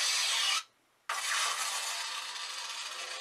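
A Xenopixel lightsaber's standard ignition effect plays close and loud: a sustained bright hiss-hum cuts out briefly into silence, then snaps back on and holds steady.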